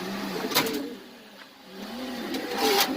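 Pigeons coo at a pigeon market, soft low throaty calls repeating near the listener, with a few sharper background noises between them.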